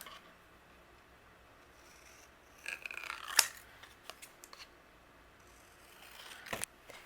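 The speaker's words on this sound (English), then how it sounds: "I'm going to use my scissors and we're going to trim away this middle piece." Scissors trim through cardstock for a card-making project in a few short, crisp snips and rustles, quiet and close, with no one speaking.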